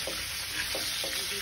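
Garlic and onion sautéing in a pan, a bright continuous hiss of frying with a few soft stirring scrapes underneath, close and steady with no talk.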